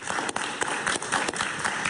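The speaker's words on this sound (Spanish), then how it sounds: "Un aplauso para Ángel Martínez, por favor" Studio audience applause greets guest Ángel Martínez on a talk show, a short, loud, continuous round of clapping filling the space.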